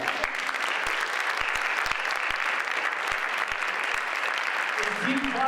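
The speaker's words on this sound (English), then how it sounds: "Keep clapping for our next storyteller." Audience applause for a storyteller at a world folktales storytelling contest, steady dense clapping that holds for the whole stretch with a few sharper claps standing out near the front.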